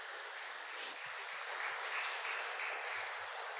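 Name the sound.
applause from the church congregation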